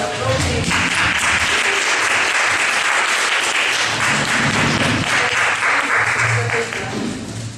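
An audience applauds the debaters after a debate on democracy, a dense, loud wash of clapping that holds steady for several seconds, with voices faintly mixed in.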